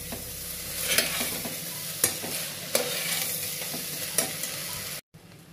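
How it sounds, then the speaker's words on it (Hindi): Black chickpeas fry with spices in a pan for kala chana curry, a steady close sizzle broken by about five sharp scraping stirs, cutting out abruptly near the end. "अब मैं अपने चने डाल देती हूँ यहाँ, और चने को थोड़ी देर के लिए फ्राई करेंगे।"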